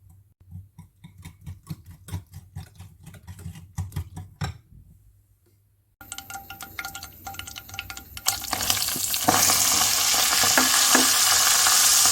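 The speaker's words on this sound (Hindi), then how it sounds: "सबसे पहले घी को गर्म करेंगे और हल्की आंच पर बेसन को भूनेंगे।" Gram flour (besan) roasting in ghee over low heat: tapping stirring strokes come first, then a steady, close sizzle that grows louder and fuller toward the end.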